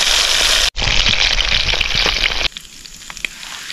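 Piau fish frying in oil by a riverside, a loud, dense crackling sizzle that cuts out briefly, resumes strongly, then drops to a quieter, sparser spatter.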